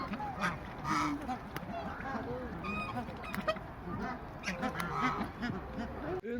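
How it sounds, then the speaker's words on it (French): A large flock of ducks on a small artificial lake at a zoo, with busy quacking and honking calls spread across the scene and people talking nearby. "Il y a plein de canards"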